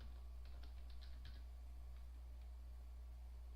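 Someone types a password on a computer keyboard: a short burst of soft key clicks near the start, faint and close, then only a steady low electrical hum from the machine.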